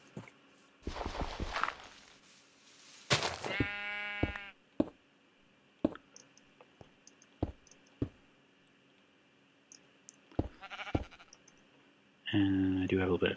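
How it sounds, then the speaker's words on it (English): Minecraft sheep bleat in short nasal bursts between game clicks, block placements and soft footsteps, with a few separate bleats across the clip and no talking. "sheep."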